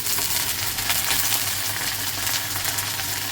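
Mung dal frying in a pan with onions in an Assamese home kitchen, a steady close hiss and crackle of sizzling that runs evenly throughout with no voices.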